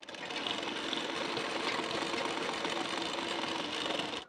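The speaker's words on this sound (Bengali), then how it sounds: "এর উপরে হুক পট্টিটি বসিয়ে এর উপর থেকে সেলাই দিয়ে নেব" A sewing machine runs steadily, stitching a hook strip onto the right side of a size 40 bra-cut blouse, a dense continuous whir held for about four seconds with no voice over it.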